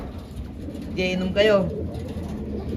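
Pet pigeons give a short burst of soft, throaty cooing close by, over steady background noise, while someone speaks briefly.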